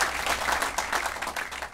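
An audience at a wine science center groundbreaking ceremony breaks into applause, a dense, fairly close burst of many hands clapping steadily for under two seconds.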